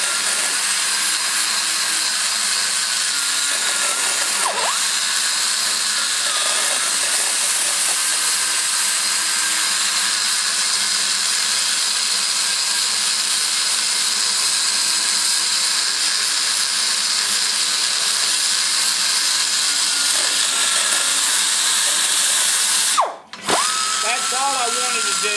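A rotary burr in a power tool grinds steadily and loudly while porting a 1989 350 TBI engine cylinder head, its whine holding for most of the time before cutting out briefly near the end and then resuming.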